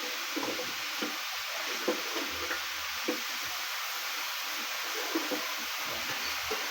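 Chayote and shrimp sautéing in a hot pan, a steady soft sizzle with light scraping and clacking as the ingredients are stirred, close and fairly quiet.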